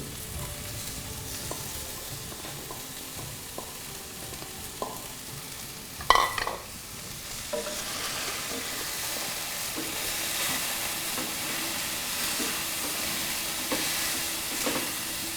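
Asafoetida tempering sizzles steadily in a hot pan while a spoon stirs it, with a sharp scrape midway and a continuous frying hiss that swells louder toward the end.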